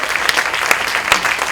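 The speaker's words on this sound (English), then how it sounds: "can we have a round of applause for the programming team" Audience applause following a film screening, a dense crowd of hands clapping steadily and loudly close by, with brief sharper peaks scattered through the short burst.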